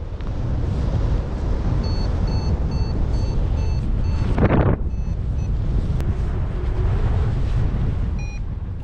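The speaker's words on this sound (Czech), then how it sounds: "Vítr slábne na síle, ale zároveň je mnohem divočejší." Wind roaring past the microphone while paragliding, a loud, buffeting rush that surges briefly in the middle, with faint high electronic beeps sounding intermittently.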